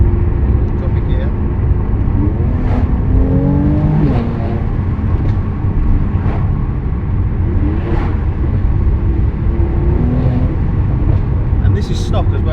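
A stock Mercedes C43 AMG engine drones loudly from inside the car, its pitch swelling in rising revs after a downshift, with another climb later on.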